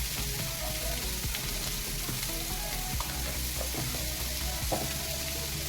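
Chopped cucumber pieces frying in a pan over a medium flame for a cucumber chutney, a steady dense sizzle with occasional stirring clicks, close and continuous with no talk.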